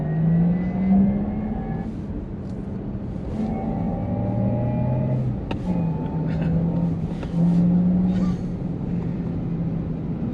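A Porsche Taycan Cross Turismo electric car drives through roundabouts, its motor giving a smooth, continuous whine with gliding pitch changes over low road rumble, heard from inside the cabin.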